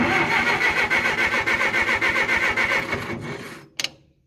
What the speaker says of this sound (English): We'll grab a battery and see if this thing cranks over.